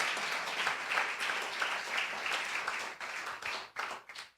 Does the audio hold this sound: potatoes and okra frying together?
no